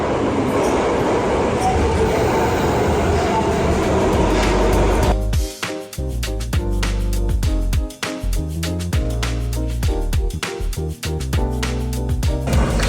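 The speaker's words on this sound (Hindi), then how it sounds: "ये हमारा ट्रेन आने वाली है, वो आ गई ट्रेन आ गई" A train pulls into a station in Japan, with a steady rumbling approach giving way to rhythmic clacking and rolling wheel noise as the carriages pass close by.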